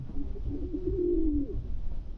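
A single pigeon gives a low, rounded coo lasting about a second and a half, close by, with a soft murmur of background noise and no talk.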